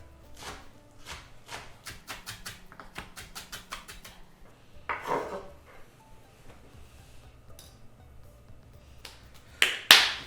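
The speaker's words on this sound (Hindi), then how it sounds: "मेथी भी काट लेता हूं मैं।" Fenugreek (methi) leaves chopped with a knife on a board for sarson ka saag: a quick run of crisp, close chops, a pause, then a few scattered cuts and a sharper knock at the end.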